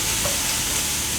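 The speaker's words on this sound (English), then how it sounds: "I've put some coconut oil in here. That's all. And this is our onions and fennel. Goes right in." Onions and fennel frying in coconut oil in a hot pan, a loud, steady, close hiss of sizzling that runs unbroken throughout with no voices.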